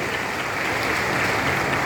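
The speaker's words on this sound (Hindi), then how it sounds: "ताली बजा के स्वागत कीजिए, ताली बजा के अभिनंदन कीजिए" A crowd at a political event inaugurating government projects with Madhya Pradesh Chief Minister Shivraj Singh claps in dense, sustained applause that fills the space evenly throughout.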